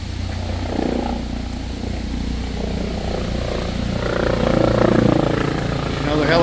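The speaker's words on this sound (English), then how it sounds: "Another helicopter." A helicopter passes overhead at an outdoor historic village, a continuous low rotor drone that swells louder toward the end, with people talking over it.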